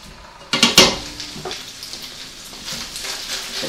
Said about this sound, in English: Now we're going to add our bacon into our pan, and this is going to fry until it's crispy.